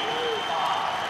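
Wrestling crowd at a Big Ten heavyweight match, Wisconsin versus Rutgers, cheering and applauding in a steady, dense roar of distant voices and claps for the whole moment.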